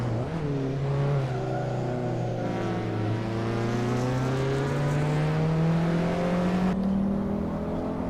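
Hot Wheels race cars in a video game drone along with a loud, sustained engine note whose pitch climbs slowly as they accelerate, layered harmonics holding steady for several seconds without speech.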